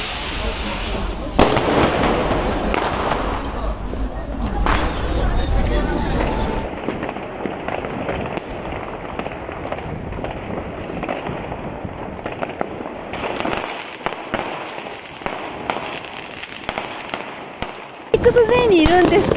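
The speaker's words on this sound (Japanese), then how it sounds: "このすっごい花火がね上がっています" New Year's Eve fireworks in Düsseldorf, Germany pop and crackle in the distance amid a crowd's chatter and voices, with bursts scattered throughout.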